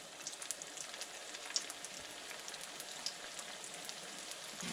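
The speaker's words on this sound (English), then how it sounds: "we're gonna fry a few batches of these" Lumpia fry in hot oil with a faint, steady crackling hiss full of tiny pops, like light rain, with no voices over it.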